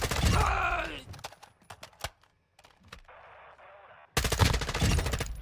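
Rapid automatic gunfire bursts from a Call of Duty DMZ match, loud dense volleys at the start and again at the end, with scattered single shots and game sounds between.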